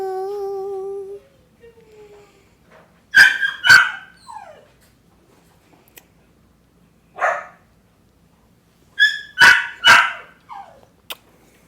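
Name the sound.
puppy barking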